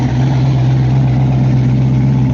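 A car engine idles at an outdoor car show, a steady low rumbling drone held close and loud without break or change in pace.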